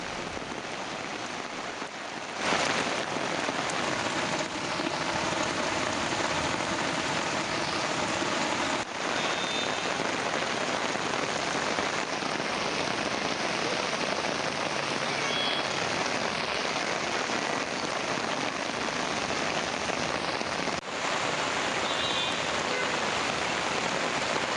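Heavy rain pours down in Hyderabad with a dense, steady roar of drops hitting streets and surfaces. It is loud and unbroken throughout, with no voices.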